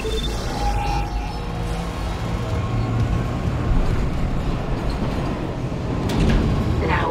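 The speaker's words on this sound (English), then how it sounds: "Gotta get on the train." A tram in the Dead Space Remake video game rumbles into the flight deck station, a loud, steady low mechanical roar with a clank near the end.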